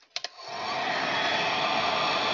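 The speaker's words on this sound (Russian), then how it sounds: "Опять на помощь приходит фен." Two quick clicks, then a heat gun whirs up into a steady, loud rushing hiss of hot air, used to melt wax.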